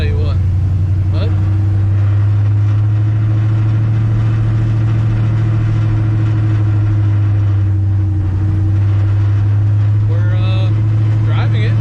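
A 1968 Chevrolet C10 pickup truck pulls smoothly uphill at partial throttle, its loud, steady low engine drone continuous throughout, with short stretches of someone talking over it.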